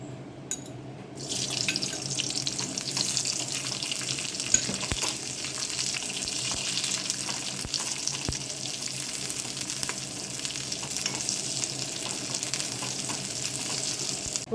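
Onions sizzling in hot coconut oil in a pan, a steady, even frying hiss that keeps up for the full length, with a few faint clicks of stirring and no voices.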